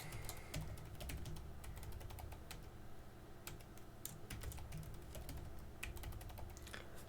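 Rapid clicks of a computer keyboard as a password is typed, faint and close, a quick irregular patter of keystrokes running continuously over a quiet background hum.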